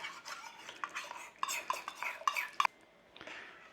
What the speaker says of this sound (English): Give it a little stir around